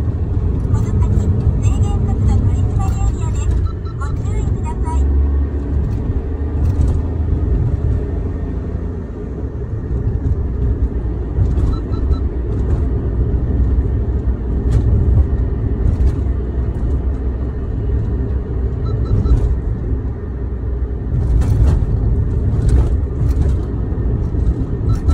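A Suzuki Every van with an AGS transmission drives along a road, its engine and road noise a loud, steady rumble that runs throughout, and someone talks over it.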